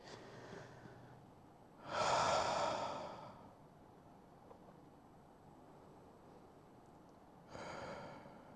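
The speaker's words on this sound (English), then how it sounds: "Take a few deep breaths here as you relax and relieve the body first." Deep breathing during a guided meditation: two slow, airy breaths, one long exhale early on and another near the end, soft and close against a quiet background, no talk.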